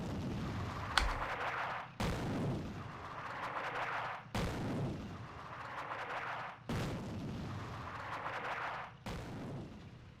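Artillery guns fire in Attack at Dawn: North Africa, a North African desert battle game, with five heavy booms spaced about two seconds apart, each rolling off into a long rumbling decay.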